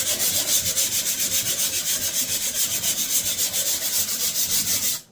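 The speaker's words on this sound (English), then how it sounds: "You're just gonna lightly sand it." Sandpaper rubs by hand over dried drywall spackle in steady, rapid back-and-forth strokes, loud and close, with an even scratchy rhythm running the whole time and no talking.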